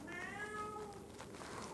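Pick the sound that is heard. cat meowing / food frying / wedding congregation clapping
cat meowing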